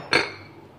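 A single bright clink of a drinking glass being washed, close and brief, fading quickly into quiet room tone.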